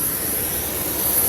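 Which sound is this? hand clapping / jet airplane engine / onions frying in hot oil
jet airplane engine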